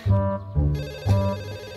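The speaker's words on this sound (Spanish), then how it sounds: "¡El teléfono, mijo!" A telephone rings in a home, with three loud, evenly spaced bursts of trilling bell tone heard close and alone.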